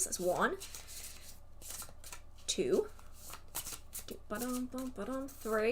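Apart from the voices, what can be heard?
shuffling a deck of tarot cards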